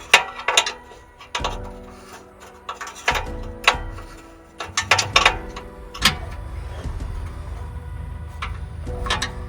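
A spanner tightening an O2 sensor on an ATV, producing irregular metallic clicks and clanks in short bursts with quieter pauses between, heard up close.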